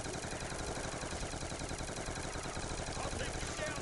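Rapid machine-gun fire in a zombies video game rattles steadily and densely throughout, a continuous close barrage at moderate loudness.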